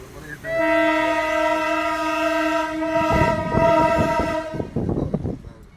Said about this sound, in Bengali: পেরিয়ে যেতে হবে ট্রেনটা